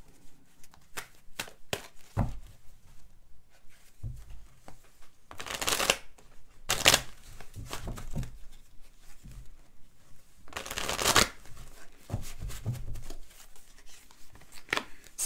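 Tarot cards being shuffled by hand in repeated riffling bursts with soft flicks and taps between, close and fairly quiet, with no talking.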